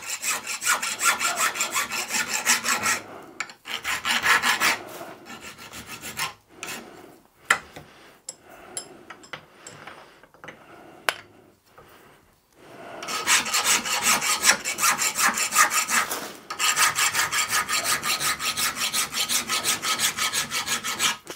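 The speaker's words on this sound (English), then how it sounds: "The file's barely marking it." A hand file rasps in long back-and-forth strokes over hard steel lathe tool edges, with dense scraping bursts, a patchier stretch of shorter strokes and knocks midway, then steady rhythmic filing resuming close by.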